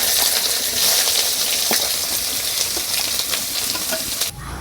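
Cumin, halved bay leaf and chopped onion go into hot mustard oil in a kadai, setting off a loud, steady close-up sizzle that crackles throughout and drops off sharply near the end.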